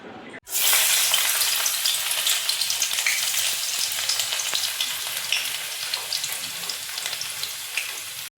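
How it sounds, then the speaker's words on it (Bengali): Fish frying crisp in hot oil gives a loud, dense, steady sizzle that starts abruptly and holds for several seconds, close by and with no voices over it. "এই যে মাছের তেল কিন্তু খুব সুন্দর করে ভেজে নিয়েছি কড়া করে"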